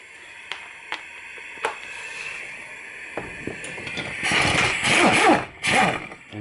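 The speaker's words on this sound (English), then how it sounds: "You're going to remove that top bolt." Ratchet clicking works a top brake caliper bolt loose during a front brake job, sparse single clicks at first, then a louder grinding run of ratcheting toward the end.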